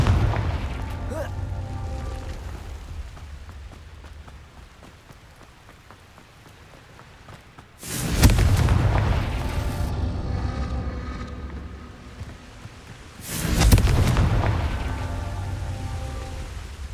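Two heavy blasts from the Confringo spell in a fantasy video game, each a sudden loud explosive burst that trails off over a couple of seconds, set against a steady rain-like background hiss.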